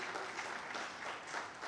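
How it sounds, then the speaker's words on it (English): Audience at a CSO post-budget dialogue for FY2024/25 gives panel members a brief round of applause, a soft, steady patter of clapping heard from a distance. "Let's give them a big round of applause."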